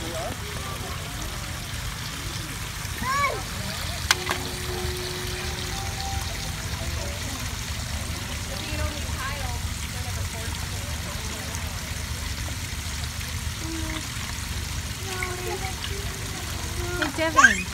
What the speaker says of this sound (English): It's water.